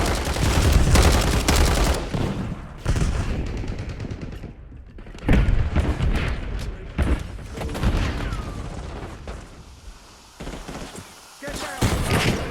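Call of Duty: Black Ops 6 combat with a grenade explosion and bursts of gunfire, loud repeated shots and booms with brief lulls, mixed with in-game voice callouts.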